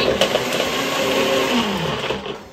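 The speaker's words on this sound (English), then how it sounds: "Bring on the blender." A kitchen blender runs loud and close in a steady churning roar, whirring continuously with a gritty, rattling texture as it blends its contents.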